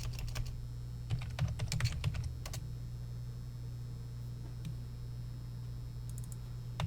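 Short bursts of keystrokes on a computer keyboard for an internet search, clicking quickly in two clusters near the start and once more toward the end, over a steady low hum.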